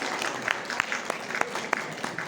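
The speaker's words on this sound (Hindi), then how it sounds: "A big round of applause." An audience claps at a Women's Day celebration, giving a faint, steady patter of applause with a few sharper individual claps standing out.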